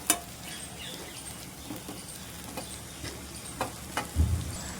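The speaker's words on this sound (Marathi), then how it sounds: "मेथी घातल्यानंतर आपण चांगलं असं मिक्स करून घ्यायचं आहे मसाल्यांमध्ये" Fenugreek leaves are stirred into cooked potatoes with spices in a pan, with soft scraping and light patter over a faint sizzle and a few sharper clinks of the spoon.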